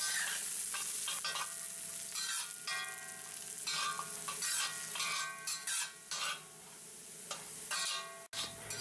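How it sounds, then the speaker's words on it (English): Carrots frying in a pan for a ramen noodle stir fry, a steady bright sizzle with occasional stirring scrapes and clinks, close and continuous with no talking. "we fry the carrots first until they're soft"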